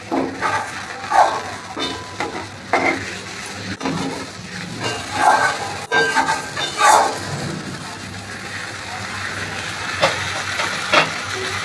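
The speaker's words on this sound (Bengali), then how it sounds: "লবণটা দিয়ে দিলাম এখন এর মধ্যে আমি সামান্য পরিমাণ জল দিয়ে দেবো" A little water hits koi fish frying in hot oil, and a loud, continuous sizzling hiss follows close up, surging and settling in uneven bursts.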